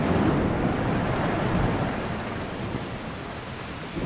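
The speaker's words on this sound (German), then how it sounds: "Dieses Prasseln vom Regen." Steady rain patters and hisses inside a roofless building in Fallout 4. It forms a dense, even wash of noise that eases slightly partway through.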